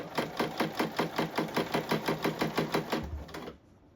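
A sewing machine runs a fast, even stitching rhythm through blazer lining fabric, close and clear, with regular mechanical thumps for about three seconds before slowing and stopping.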